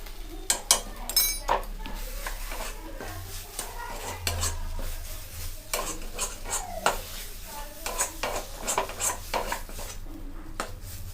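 A spatula scrapes and stirs a yardlong bean kachori filling as it dry-fries in a wok, with repeated metallic clinks and scrapes over a low sizzle and no talking.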